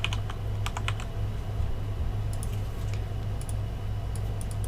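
Computer keyboard typing, scattered quick key clicks in short bursts over a steady low electrical hum, close and with no talking.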